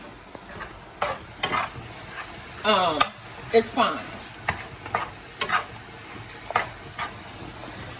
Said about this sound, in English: I just cook it like this in my cast iron skillet because once my ground beef is done